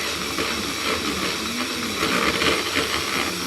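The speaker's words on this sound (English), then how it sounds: "So you whisk up the egg whites until they're thick." Egg whites for meringues are being whisked with a steady, unbroken electric mixer whir and hiss that carries on for several seconds without pause, and no one speaks over it.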